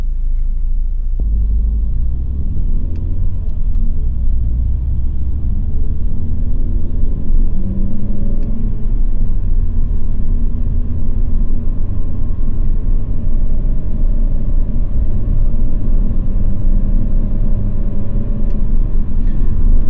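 A car with a Selespeed automated gearbox revs while standing still, its loud, constant low rumble carrying an engine tone that climbs and sags in the middle stretch, with no talking.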